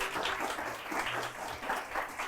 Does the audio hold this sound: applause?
yes